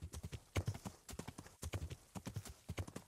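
Horse hooves gallop across a field in the medieval role-playing game Kingdom Come: Deliverance, a fast, loud, close rhythmic clatter of clip-clops running steadily throughout.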